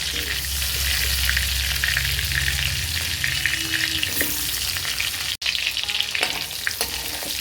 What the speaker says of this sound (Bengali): এই তেলেতে এবার আমি আলুগুলো ভেজে নেব